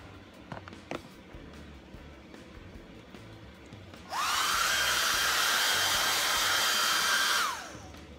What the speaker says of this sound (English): And of course, by iron, I meant blow dry.